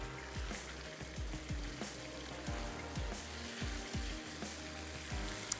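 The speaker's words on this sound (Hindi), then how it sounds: "हमने बस इसको अच्छे से भून लेना है ताकि जो दही है वो भी अच्छे से भुन जाए।" Garam masala and yogurt frying in a pan for a masala dish, a soft steady sizzle with repeated low bubbling pops at an irregular rhythm, fairly faint and close.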